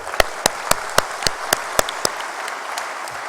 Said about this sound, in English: Can I ask you a round of applause for all of us?